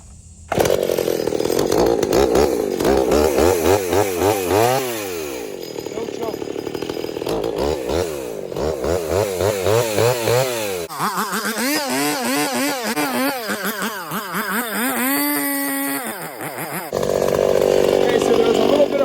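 A Pioneer chainsaw cuts growth on a small tree outdoors, its engine revving up and down in repeated surges and bogging under load, loud and close throughout.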